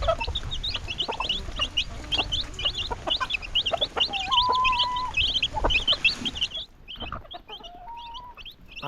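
Chickens cluck and squawk steadily on a farm near a pig pen, with repeated close, busy calls and a few longer crowing-like notes, no talking.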